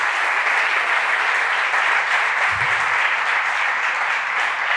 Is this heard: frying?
no